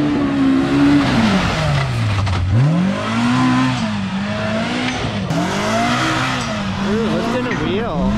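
Polaris RZR X3 and KRX side-by-sides race through mud, engines revving loudly and rising and falling in pitch as they accelerate, close and continuous, with excited voices over the engine noise.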